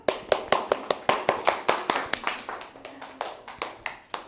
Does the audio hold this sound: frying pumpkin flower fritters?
no